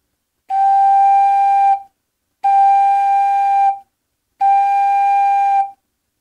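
Three sustained tongued wind-instrument notes, each with a sharp, piercing attack and a bright steady pitch, played loud and close with short silences between them.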